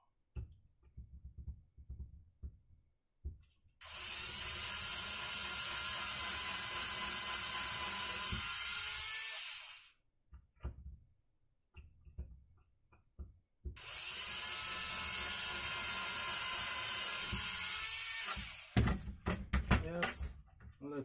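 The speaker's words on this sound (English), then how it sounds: "So let's just drill." A power drill whirs loudly in two long bursts of several seconds each while drilling into a computer case, separated by quiet handling noises and clicks.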